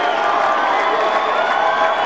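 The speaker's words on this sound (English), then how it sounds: "Spontaneously, the crowd cries out for no ID." A large rally crowd roars and shouts loudly and continuously, a dense wash of cheering voices with no distinct words standing out.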